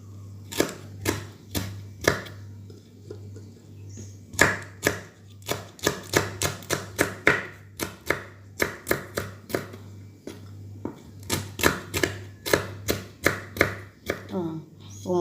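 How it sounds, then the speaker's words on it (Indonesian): Knife chopping small chili peppers on a cutting board during home cooking of Chinese pumpkin soup, a steady run of crisp, close taps in uneven bursts with short pauses. "Sekarang kita potong cabai kecilnya."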